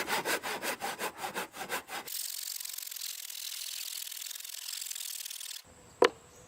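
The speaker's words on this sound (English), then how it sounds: "A crosscut saw just doesn't do this as well as a rip saw would." A crosscut hand saw cuts through pallet wood, with about ten steady rhythmic push-pull strokes, followed by a sustained rough rasping noise and a single sharp knock near the end.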